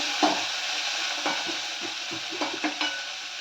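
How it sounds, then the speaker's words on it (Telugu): Maggi noodles with onion are stirred in a sizzling pan, with a steady frying hiss and a handful of spaced scraping strokes from the spoon, heard up close with no talking. "ఒకసారి కలుపుకోవాలి"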